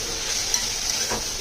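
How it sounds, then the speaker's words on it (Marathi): Ginger, garlic and green chili paste, coarsely pounded in a mortar, fries in hot oil with a steady close sizzle and brief stirring scrapes throughout, no voices. "आता याचा कच्चा वास जाईपर्यंत ही मी तेलात फ्राय करून घेते"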